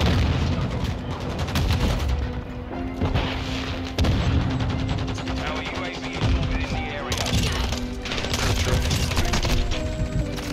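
Dense Call of Duty MW2 firefight with grenade explosions and booms amid continuous automatic gunfire, loud and cluttered throughout, with a faint voice underneath.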